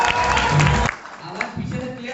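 Audience at a motivational lecture clapping briefly, a short burst of applause that fades into a speaking voice.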